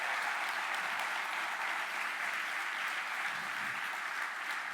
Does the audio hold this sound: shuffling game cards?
no